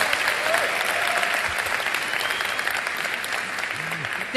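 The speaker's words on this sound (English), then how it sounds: "can we do another round of applause?" An audience at a live Mark Zuckerberg speech event in Nigeria claps in sustained, even applause, dense and steady throughout the short span.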